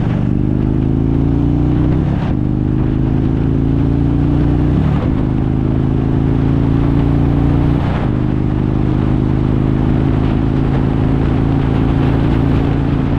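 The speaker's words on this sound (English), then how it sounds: "This exhaust. Let's see if we can capture this exhaust note. Alright, ready? I'm in third." Indian motorcycle in third gear, its exhaust note a loud, steady engine drone that rises gradually, broken by brief dips around shifts or throttle changes, with wind noise throughout and no talking.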